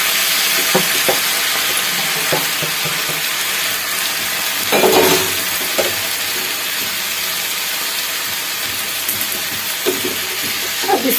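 Tomatoes go into a pan of golden brown onion, chilli and ginger and fry with a steady close sizzle, while a utensil scrapes and stirs in occasional knocks.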